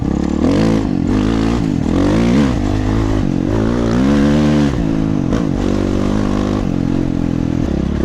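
Dirt bike engine ridden along a winter trail in Canada, loud and close with steady throttle, rising and falling revs and rough mechanical clatter throughout.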